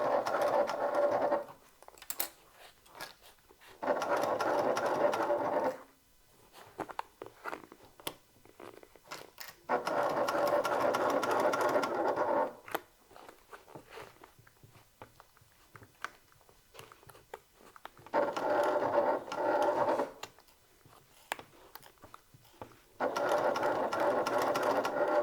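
A sewing machine stitches a top handle bag in bursts of loud, steady whirring, separated by short pauses and light handling noises.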